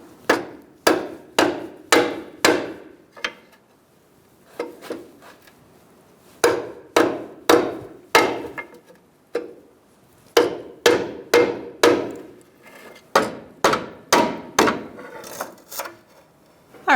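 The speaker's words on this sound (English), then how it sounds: "we're going to peen over these edges on the washer on the flat spots" Sharp hammer blows peen over the edges of a washer on an inner tie rod of a 2012-2017 Hyundai Accent, struck in quick clusters of four or five with short pauses between groups.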